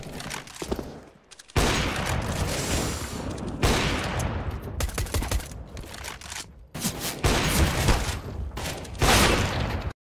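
Rapid gunfire in a competitive shooter match, heavy bursts of automatic fire coming in repeated loud volleys separated by brief pauses, close and dominant with no talking.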